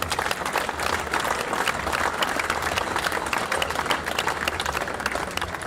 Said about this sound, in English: give yourselves a round of applause because you've done it